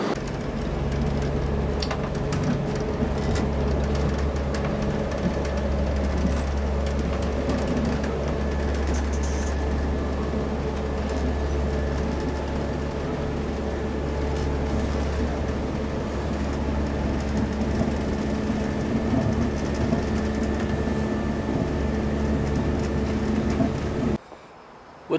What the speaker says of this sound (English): Train station, going to Corby near Nottingham.